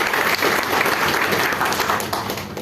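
Classroom audience gives a brief round of applause, a dense, lively burst of many hands clapping close by that tapers slightly at the end.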